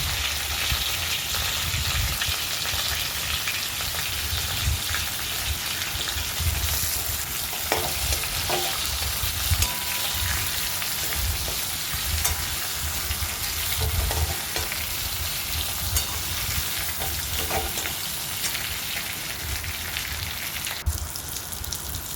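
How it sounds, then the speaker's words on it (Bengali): Pointed gourd (potol) pieces fry in hot oil in a wok, giving a dense, continuous sizzle with occasional stirring scrapes, close and steady, with no talk. "এবার ওই কড়াতেই আমি পটলগুলো ভেজে নেব।"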